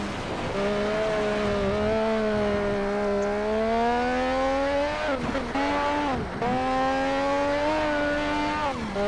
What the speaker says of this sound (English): Just listen to that rotary engine. It is so freaking sweet.